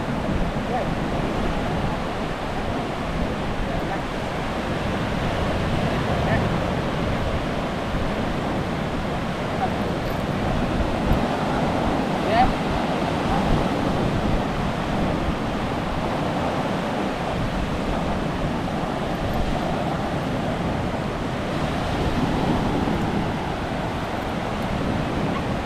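Sea waves wash around a small fishing boat at sea, a steady, moderately loud rushing surf with wind noise on the microphone and no clear break in the texture.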